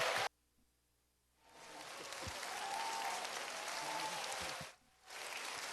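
A church congregation applauds to welcome missionary Kim Yong-ui to the front: after a near-silent pause, dense clapping rises, holds for about three seconds, dips briefly, then picks up again.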